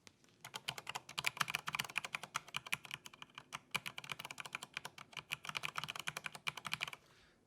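Fast steady typing on a Corsair K95 keyboard with Cherry MX Silver switches, a dense run of crisp close key clacks with short pauses, no voices.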